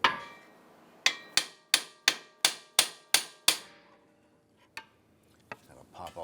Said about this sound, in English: we're going to hit the knuckle here to release that ball joint